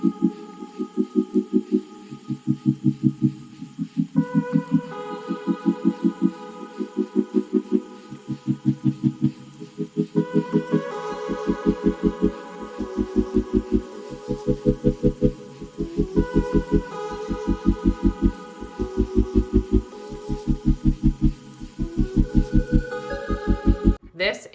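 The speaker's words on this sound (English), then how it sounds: "we're just gonna sew all the way around that piece" A sewing machine runs a stretch stitch around the cuffs of an upcycled Space Jam shirt, a close, rhythmic thumping of rapid needle strokes over a steady motor hum, in repeated short runs.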